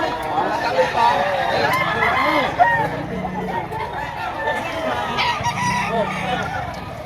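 A rooster crows several times in a busy chicken market in Lipa, Batangas, the calls rising over constant background chatter and nearby voices.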